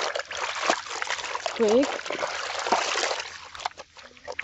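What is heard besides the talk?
hand washing white jeans in water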